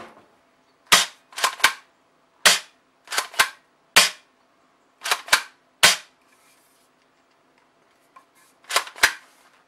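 An ACM long shotgun (airsoft replica) fired in about a dozen sharp, cracking snaps, mostly in quick pairs and triplets with short pauses between, close and loud.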